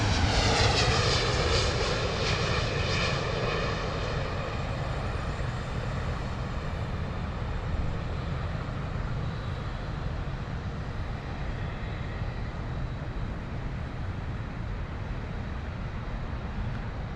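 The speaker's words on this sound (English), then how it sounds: "Beautiful Virgin Airbus A300 there, A330, sorry." A Virgin Atlantic Airbus A330 arriving from Miami lands at London Heathrow, its jet engine roar loud and steady throughout, a broad continuous rumble with a whining edge that fades slightly as the aircraft passes.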